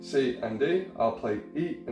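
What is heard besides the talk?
None of the usual background noises is heard.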